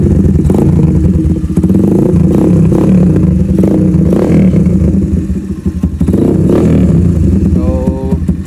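Kawasaki Barako scrambler motorcycle engine fitted with a version 2 bullet pipe, idling loudly and close with steady low rumbling and a few blips of revving, heard alone without talk.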